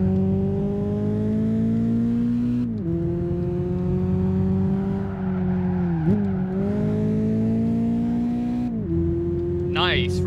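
Race car engine in Gran Turismo 5 at high speed, around 110 mph into a corner, droning loud and steady with pitch dips as it shifts and brakes, a brief tire squeal near the end.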